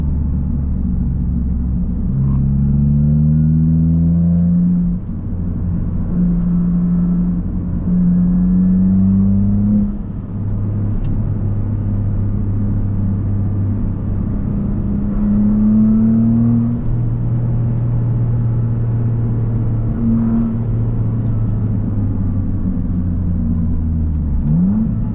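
Toyota GR Corolla three-cylinder engine fitted with a new exhaust, revving repeatedly with rising and falling pitch over a steady loud droning idle, close and continuous with no talking.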